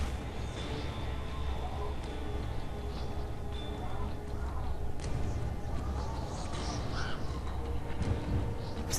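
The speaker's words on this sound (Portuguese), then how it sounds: "esse corvo tá em todo lugar que a gente vai, cara" A crow caws in the video game Fahrenheit / Indigo Prophecy, faint cries set against a steady, low ambient game soundscape.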